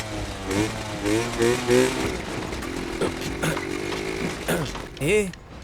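A motorcycle engine runs on a test ride, its motor revving and droning up and down in pitch close by, with a voice and scattered other sounds over the top.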